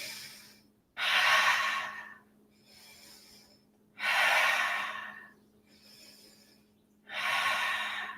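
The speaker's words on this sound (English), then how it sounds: "Breathing." Deep yoga breathing in a studio session: three loud, long breaths rise and fall in a slow, steady rhythm, close to the microphone, with quieter breaths between them.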